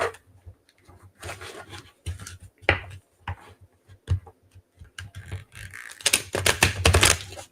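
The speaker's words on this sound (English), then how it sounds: "Oh, that didn't shuffle" Tarot cards being shuffled by hand, giving sharp clattering riffles and taps in uneven bursts, quiet at first and then building to a dense, loud flurry of card snaps near the end.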